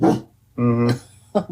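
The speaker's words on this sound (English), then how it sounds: "that's our dog." A dog barks in short, loud bursts, one near the start and another stretched bark mid-clip, with a brief yip at the end; a person murmurs briefly between them.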